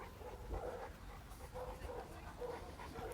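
A puppy in bite training gives soft, faint whimpers and short yips in quick succession, with a person's voice murmuring in the background.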